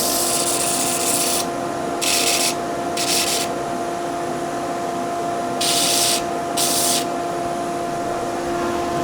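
A wooden crochet hook or knitting needle is sanded on a disc sander with dust extraction running, a constant mechanical whine and hum with several short bursts of rough grinding as the wood is pressed to the disc.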